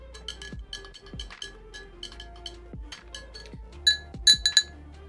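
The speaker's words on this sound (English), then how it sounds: "So we're going to stir it up right here." A spoon stirs GG Fuel Citrus Lemonade drink mix in a glass, giving a run of bright clinks and taps against the glass with low swirling water, building to a few sharper ringing knocks near the end.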